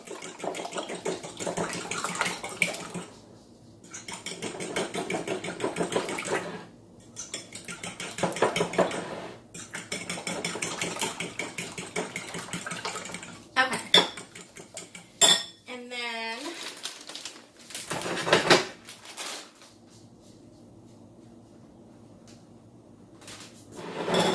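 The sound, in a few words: whisking eggs and heavy whipping cream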